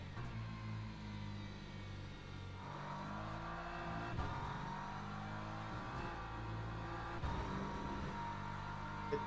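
Race cars, including a BMW, overtaking around Spa in the Le Mans Ultimate racing game, engines droning and shifting pitch steadily with rising and falling revs as cars close in, no talking.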